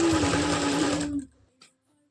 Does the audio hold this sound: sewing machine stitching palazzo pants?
yes